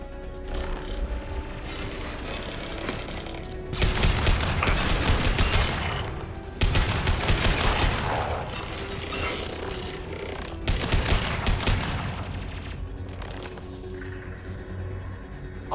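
Automated turret gunfire in Mass Effect 2 during Legion's loyalty mission, a dense, continuous mechanical barrage of rapid shots and clanks that swells in loud bursts over nearly sixteen seconds.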